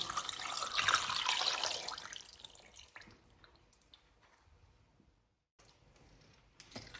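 Water poured over pork trotters in a pot: a close, steady splashing pour for about two seconds that trails off into faint drips and small clicks, then a pause and a brief final splash, no talking.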